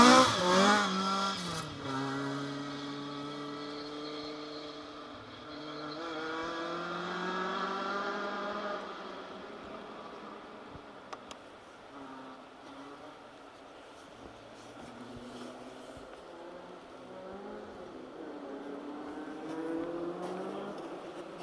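Rally cars on a forest stage during the Anglo Caledonian Rally, one engine roaring close at first then revving and fading into the distance, with another car droning faintly further off.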